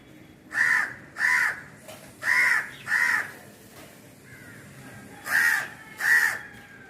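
A young crow chick with well-grown feathers gives six loud, harsh caws in two groups of four and two, close by, each call about half a second long with short pauses between.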